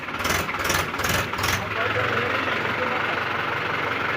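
A tractor engine idles close by with a steady, rough low rumble while people talk over it.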